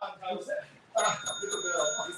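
A boxing bell rings to end a round, a bright sustained tone starting about a second in and ringing out under an excited commentator's voice, with talk also heard before it.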